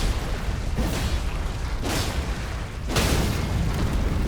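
Deep booming blasts in a fantasy action video game, three heavy explosions roughly a second apart, each a broad rumbling burst that decays into a low roar, loud and without speech.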